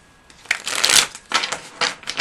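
Tarot cards handled and shuffled, with close riffling bursts and soft slaps in short irregular clusters, moderately loud against a quiet room, with no talk.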